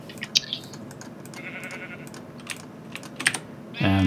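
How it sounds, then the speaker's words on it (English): A few short sheep bleats in the video game Minecraft, faint and spaced out amid keyboard clicks and quiet background, with a louder tone entering near the end. "Follow the sound of the sheep."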